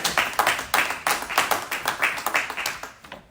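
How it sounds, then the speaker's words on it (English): A small group claps at a motivational talk in Ohio, giving a brisk, rhythmic run of distinct hand claps, close and fairly loud, tapering off at the end. "Give yourself a round of applause, man"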